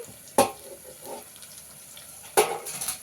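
Chopped tomato drops into a pan of frying onions, mint and masala for restaurant-style mutton kurma, with two sharp splashes of sizzle over a steady low frying hiss.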